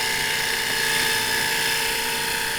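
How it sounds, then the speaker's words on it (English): A lathe tool chunking wood out of a spinning wooden platter in shallow cuts of about half an inch, making a steady, loud, high whirring scrape that runs without a break. "it's a real simple process of just chunking the wood out"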